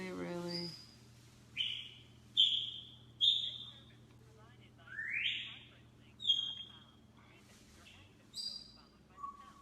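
A pet bird chirps in short, sharp whistled bursts, about half a dozen spaced calls, fairly close, over a low steady hum.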